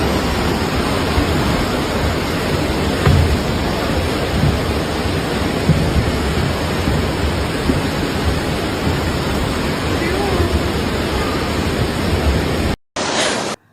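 Heavy rain pours steadily during flooding in Peru, a dense, constant hiss close by with low rumbling beneath, running unbroken until a brief cut near the end.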